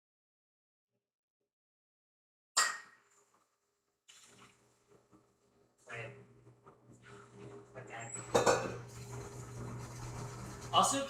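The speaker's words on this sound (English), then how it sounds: "I gotta do the dishes" Dishes are washed by hand at a kitchen sink while cooking, with scattered scrapes, rubbing and running water growing busier toward the end, close and moderately loud, and a brief spoken word in the middle.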